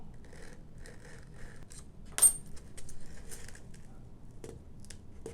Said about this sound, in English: I'm going to cut a little bit of foam away.